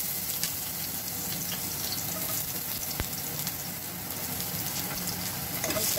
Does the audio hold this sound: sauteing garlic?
yes